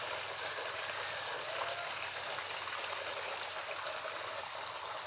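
A clean natural spring flowing, a steady close rush of running water with no talking, even and unbroken throughout.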